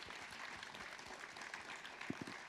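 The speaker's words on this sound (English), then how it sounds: "please do give one last clap for our panelists" A room of audience members gives a final round of applause for the panelists at an evening business talk, a brief, steady wash of clapping at moderate level with a few sharper individual claps near the end.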